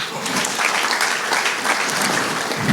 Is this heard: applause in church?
yes